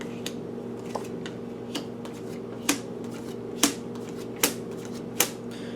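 Tarot cards being shuffled by hand, a string of sharp, evenly spaced riffling snaps over a low steady background hum, close and fairly clear, with no speech.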